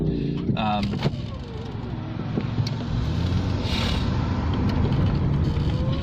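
A car moving through road traffic, with a continuous low engine and road rumble, some wind noise, and occasional clicks and passing vehicle sounds, while a person talks over it.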